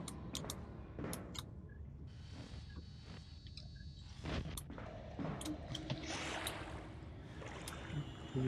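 Water sloshes and splashes in the horror video game Outlast, with irregular bursts of movement and trickling at moderate distance, fairly faint and without talk.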